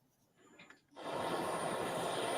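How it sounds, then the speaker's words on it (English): Military helicopter flying over remote mountain towns in Morocco while dropping relief items, its steady loud engine and rotor roar rising abruptly after a faint quiet start and then holding constant. "a military helicopter was seen dropping relief items for people"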